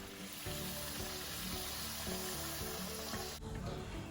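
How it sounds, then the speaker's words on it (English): Papdi, crisp flour snack discs, frying in hot oil on turned-down heat, giving a steady close sizzle and bubbling that runs without a break, briefly disturbed near the end. "get the oil nice and hot, and then turn the heat down when you add the papris."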